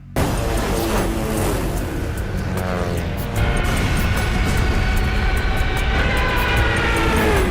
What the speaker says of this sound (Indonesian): pesawat pembom Tukik Suka Jerman terbang rendah di atas Westerplatte